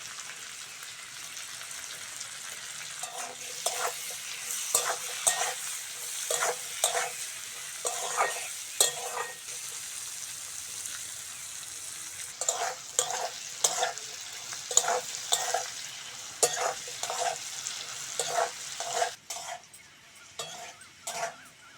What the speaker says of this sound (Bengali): কেটে ধুয়ে রাখা করলাগুলো আর আলুটা ভেজে নেব।